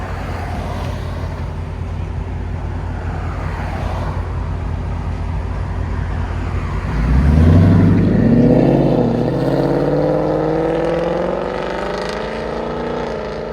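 2019 Ford Mustang GT 5.0 V8 with H-pipe and Borla S-Type exhaust in normal mode, a loud deep idle burble that swells into a rising rev and settles back, close up.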